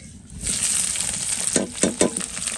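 Chopped onion and chillies hit hot oil with cinnamon, cardamom and cloves, rising into a sizzle, then three quick scraping stirs near the end.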